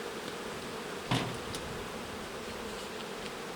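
Bees buzz faintly as a beehive is opened, with a soft steady hum and one brief louder knock or buzz near the middle.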